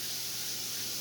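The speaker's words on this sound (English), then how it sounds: "that big canner is just starting to have steam out of it" A big canner starts venting steam in a continuous, close, even hiss that holds steady without a break.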